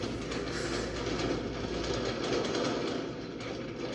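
A dense, continuous rumbling roar with crackling texture, steady and fairly loud, from a SpaceX Starship launch with 33 Raptor engines firing, with no voices.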